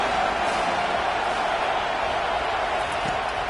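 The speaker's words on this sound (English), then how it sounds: "Big 3rd down as the crowd gets behind this defense." Steady roar of a stadium crowd at a college football game as the Bruins' defense faces a big third down, a dense, continuous wash of cheering voices with no breaks.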